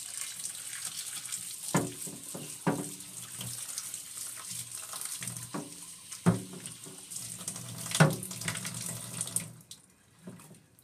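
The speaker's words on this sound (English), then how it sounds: "This one isn't real bad, but we'll rinse it off." A humidifier water panel with calcium buildup is rinsed under a running tap, giving a steady close splashing stream with several louder gushes as the panel is moved, then a sudden cut-off near the end.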